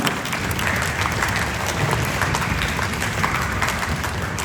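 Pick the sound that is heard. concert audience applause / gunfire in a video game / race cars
concert audience applause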